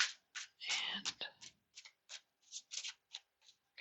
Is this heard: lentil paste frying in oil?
no